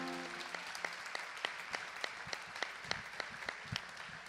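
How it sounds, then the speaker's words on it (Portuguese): A church congregation claps at a worship service, with fairly regular, distinct hand claps at a moderate pace. The sound is faint and somewhat distant, with music fading at the start. "Aplauda o Senhor, amém."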